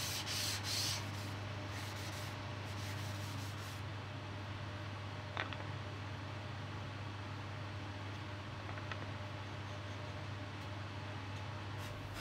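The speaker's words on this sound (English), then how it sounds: "The worst part just started for me, which is sanding." Steady, even rubbing of sandpaper by hand on scrap wood serving boards, a continuous hiss over a low hum, with a couple of faint knocks along the way.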